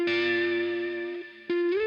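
Surf rock guitar riff drenched in echo and reverb, a sustained bright electric tone ringing out, briefly dipping, then a fresh note struck and bending upward near the end, played alone.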